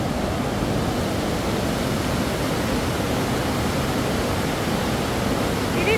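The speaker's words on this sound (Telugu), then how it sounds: "ఇక్కడ నుండి వాటర్ ఫ్లో అవుతుంది మంచిగా" River water rushing under a bridge in Turtuk village, Ladakh, a steady loud broadband roar of flowing water, close and unbroken, with no voices.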